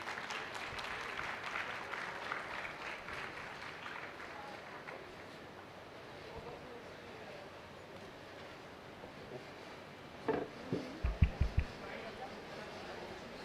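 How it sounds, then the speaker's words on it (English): Audience applause at a university faculty day event, a long, fairly faint rolling wash of clapping that tails off, then a few loud thumps near the microphone at the end. "A big round of applause."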